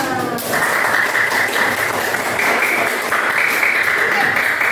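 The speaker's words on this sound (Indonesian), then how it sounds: "Tepuk tangan untuk semua." Students in a classroom give a round of applause, a dense, loud, continuous patter of clapping that starts abruptly and holds steady throughout.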